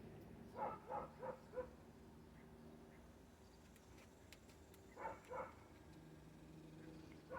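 Dogs in the neighborhood bark in two short bursts of about four yips each, moderately distant and faint against an outdoor background hum, with a quiet gap between the bursts.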